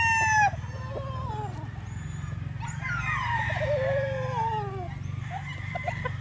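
Gamefowl roosters, including Roundhead and Boston Roundhead birds, crow in turn, with long, drawn-out calls at close and middle distance over a steady low rumble, along with a few short clucks.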